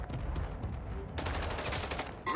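Rapid video game gunfire crackles loudly through a tense multiplayer firefight, the bursts growing dense and continuous partway through the clip with no talk over them.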